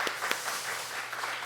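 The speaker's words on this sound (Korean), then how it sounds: "우리 부서 수련회 수고해 주신 분들에게 우리 격려 박수하겠습니다." A church congregation applauding at a summer retreat service, a brief, even wash of many hands clapping together.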